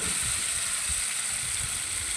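Potatoes in a spiced masala base for Bengali crab curry fry in a pan with a steady, close, hissing sizzle and soft stirring thumps underneath throughout.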